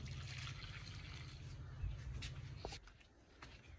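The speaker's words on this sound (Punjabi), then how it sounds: "ਹੁਣ ਆਪਾਂ ਆਪਦੇ ਪਿਆਰੇ ਦੇ ਪੁਦੀਨੇ ਨੂੰ ਪਾਉਂਦੇ ਹਾਂ ਪਾਣੀ।" Water poured onto a potted mint plant makes a faint, soft trickle and dribble over a low steady hum, which drops away near the end, with no one talking.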